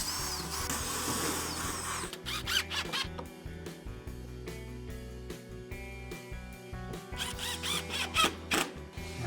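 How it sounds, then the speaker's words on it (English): A power drill whines in several short bursts with pauses between them as it pre-drills holes in a wooden table saw sled, close and fairly quiet. "And now we're gonna pre-drill right where we had the tape."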